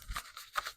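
Tarot cards are shuffled quickly, giving two brief, soft riffling bursts separated by a short pause, close and faint.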